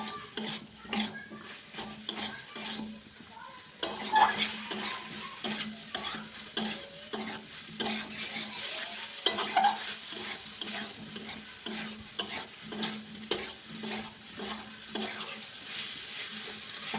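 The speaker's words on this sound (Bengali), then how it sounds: "এরপরে বেগুনগুলোকে দিয়ে দেব, একসাথে কষিয়ে নেবে কিছুক্ষণ।" Eggplant sizzles and fries in a pan while a utensil stirs it, scraping and clicking against the metal in steady irregular strokes, close by with no talking.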